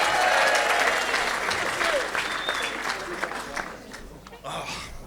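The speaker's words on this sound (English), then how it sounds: "Clap it, cheer it." A comedy club audience claps and cheers for a comedian, with loud, dense applause that tapers slightly before a fresh burst near the end.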